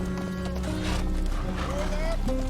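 Horses' hooves clip-clop with soft whinnying and tack noise, close and steady under a voice that talks throughout.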